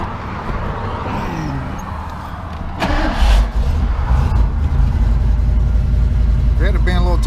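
The engine of a Lincoln 460 V8 donor car runs roughly and struggles to hold an idle, a loud steady rumble that swells midway, with people talking over it.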